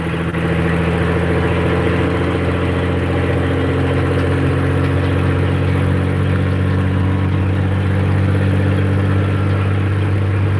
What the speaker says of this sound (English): I love this straight pipe I put on it. You can hear the turbo